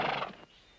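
A horse gives a short, fairly faint whinny that fades out quickly into a quiet background.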